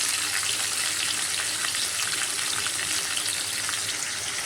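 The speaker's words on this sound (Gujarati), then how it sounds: "જીરું તતડે" Cumin seeds crackle and sizzle in hot oil in a pan, a loud close continuous frying hiss with dense popping, no talking.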